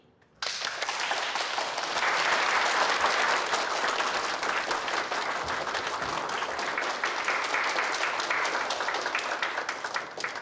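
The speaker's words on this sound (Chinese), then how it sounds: "我们以热烈的掌声欢迎今天的第一位演讲人——黄自立" A large audience breaks into loud, sustained applause to welcome the first speaker at a talk on learning traditional culture. The clapping starts abruptly and continues evenly for about ten seconds, with no speech over it.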